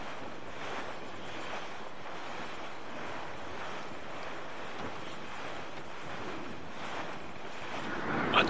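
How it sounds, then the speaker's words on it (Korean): Wind blowing steadily across the open sea in Assassin's Creed IV: Black Flag, a continuous broadband rush with surf-like swells that stays level throughout, with no voices. "바람 부는 거 봐"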